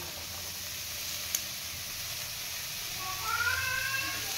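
Onion and tomato sautéing in a pan for a spicy okra and potato curry, a steady broadband sizzle throughout with a brief sharp click near the start and faint scraping later.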